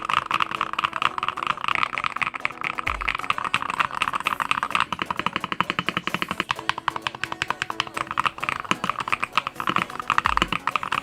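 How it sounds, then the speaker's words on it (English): Continuous fast typing on an IQUNIX EV63 compact keyboard fitted with magnetic switches, giving a dense, steady patter of soft, rounded keystrokes close up, with no voices. "let's hear how creamy this keyboard sounds."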